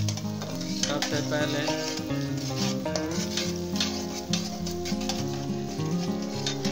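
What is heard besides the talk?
frying finely chopped onions in a pan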